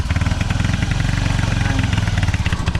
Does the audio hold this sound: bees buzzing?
no